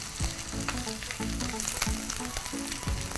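Sliced onion frying in a pan with chopped chili for a rice casserole, a dense, loud, continuous sizzle and crackle heard up close without speech.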